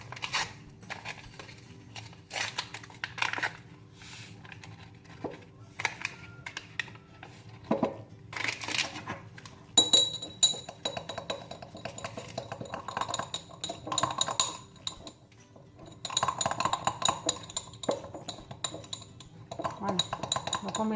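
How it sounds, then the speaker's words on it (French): A spoon stirring yeast into lukewarm water in a small glass, giving light clinks and scraping taps in irregular clusters, close and fairly quiet, with someone speaking French throughout. "Donc on mélange bien pour éviter les grumeaux"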